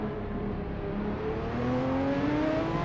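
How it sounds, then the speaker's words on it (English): GT3 race car engines in a racing video game at Hockenheimring, a steady droning engine note with rising harmonic pitch lines as the car accelerates, continuous and fairly even in level with no talk. "These engines sound pretty nice."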